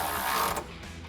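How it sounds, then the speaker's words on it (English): A ratcheting socket wrench turns the 16mm connecting bolt on a steel OE-style side step bracket of a Jeep Wrangler JK, giving a quick, close run of clicking ratchet strokes that stops partway through. "Then switch to a 16mm socket and wrench for the connecting bolt."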